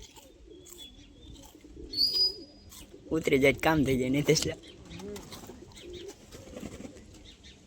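A pigeon at a friend's house gives a short, close burst of cooing midway, with people chatting around it and soft background noise.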